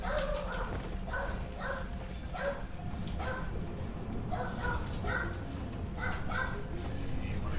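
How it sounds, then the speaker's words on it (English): A dog barks in a repeated string of short yaps at moderate distance, spaced in a loose rhythm over a constant low background rumble. "Oh, it's barking."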